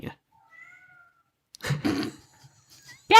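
A cat gives a soft, thin meow. A person then speaks to it in a quiet room, with another faint cry near the end.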